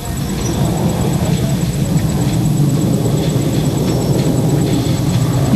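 Ilyushin IL-76 military transport aircraft approaching at an air force firepower demonstration, a loud steady low engine roar and rumble filling the whole stretch without pause.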